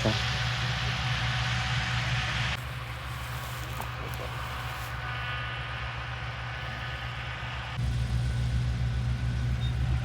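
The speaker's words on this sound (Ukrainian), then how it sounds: "Комбайн трохи стояв, але вже поїхав далі." A combine harvester engine runs steadily with a deep, continuous rumble as it harvests damp barley, heavier at the start and end and easing slightly in the middle.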